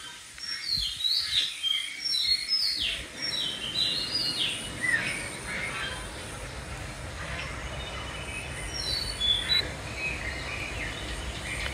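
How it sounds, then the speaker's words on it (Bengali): Birds call in the early morning just after rain, their sharp chirps and short whistled phrases scattered over a steady, soft background wash, with no one talking. "আর খুব ভোরবেলা পাখিগুলা কিভাবে ডাকতেছে।"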